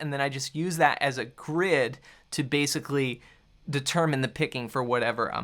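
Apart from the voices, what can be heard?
No distinct noise like a dog, phone or traffic.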